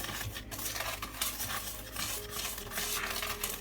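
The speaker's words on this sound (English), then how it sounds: "I'm just gonna whisk it around" A whisk stirs dry bath bomb ingredients in a bowl, giving soft, scratchy rhythmic swishes and light taps against the bowl's sides, close and fairly quiet.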